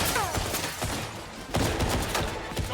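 A dense, continuous fusillade of gunshots from a 007 video game roars loud and close, with rapid overlapping cracks and bursts throughout.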